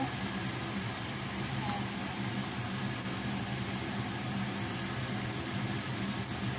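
Aloo puri frying in hot oil, a dense, rain-like crackling sizzle that holds steady throughout at moderate volume.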